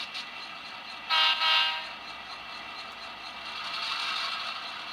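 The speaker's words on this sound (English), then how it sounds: "that is the sound of the locomotive brakes" Model MoPac locomotive independent brakes applying on a Tsunami2 sound decoder: a sharp burst of hissing air, loud and brief, then a steady rushing hiss that swells over several seconds.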